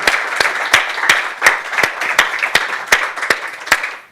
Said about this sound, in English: Let's have a round of applause of thanks and gratitude